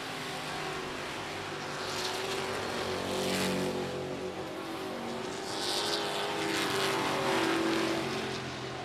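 Race trucks roaring around the I-37 Speedway oval, a steady dense engine drone with rising and falling passes as they circle, loud and continuous with no voices.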